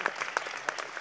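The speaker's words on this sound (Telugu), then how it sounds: "చప్పట్లు కొట్టండి అందరూ" An audience at an Ugadi awards ceremony claps in a burst of applause, with dense, steady hand claps close by and no voices over them.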